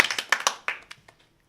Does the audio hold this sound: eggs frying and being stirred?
no